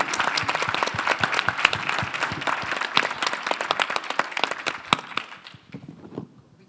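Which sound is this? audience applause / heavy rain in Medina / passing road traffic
audience applause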